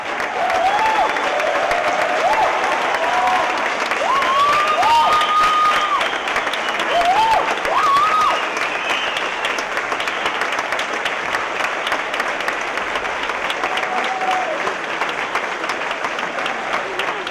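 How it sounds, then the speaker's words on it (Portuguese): A theatre audience applauds a São Paulo Companhia de Dança performance in a long, dense ovation that holds steady and loud, with faint whoops rising above the clapping. "soltam as mãos e aplaudem"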